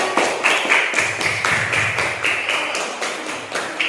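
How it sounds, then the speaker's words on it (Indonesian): Classmates in a primary school classroom clap their hands together in a steady, fairly loud run of quick claps, with a few brighter taps standing out. "Tepuk tangan teman-teman."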